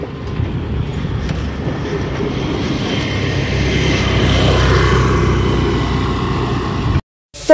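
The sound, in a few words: train passing a railway level crossing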